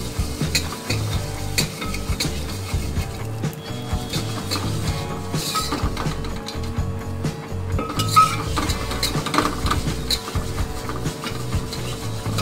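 Vermicelli roasting in a pan and stirred steadily, a continuous close sizzle under repeated scraping and light clinks of a spoon against the metal, with no voices.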